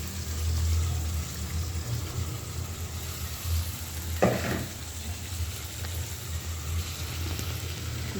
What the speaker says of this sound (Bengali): সবজিগুলো দিয়ে একটু কষায় নিই